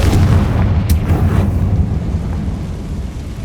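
A Confringo fire spell detonates in Hogwarts Legacy, a loud, deep booming blast that rolls on as a sustained low rumble and fades slowly.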